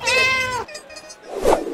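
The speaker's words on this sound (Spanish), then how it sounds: "Felicidades, Mol! ¡Tenemos un gato" A cat meows in the Super Smash Bros video game: one loud, close, drawn-out meow, then a brief quieter gap, then a second sharper cry near the end, with no talking.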